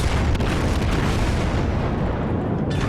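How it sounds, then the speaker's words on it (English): Heavy booming gunfire from battleship rear turrets in World of Warships, a loud, dense roar of blasts filling the whole stretch without any talking. "I can probably get off a couple more shots here. My rear guns, maybe."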